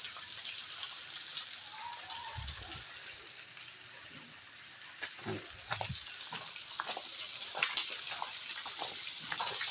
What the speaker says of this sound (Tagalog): Maapaw na siya. Maapaw na yung tubig.